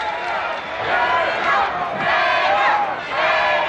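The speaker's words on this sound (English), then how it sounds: "Crowd's yelling for Gator" Wrestling crowd at a 1990 IWA Wrestling event yelling and chanting: loud, close, surging waves of shouting voices that rise and fall in rhythmic bursts.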